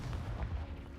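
A Confringo blast spell goes off in a Wizarding World video game as a short, heavy, booming burst with rumbling low-end impact, heard alone over about a second.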